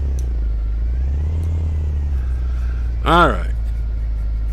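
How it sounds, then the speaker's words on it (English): A Remos GX light sport aircraft's simulated engine idles in X-Plane, giving a steady low drone throughout, with someone speaking briefly over it. "Bring up the volume here so I can hear what the engine's doing"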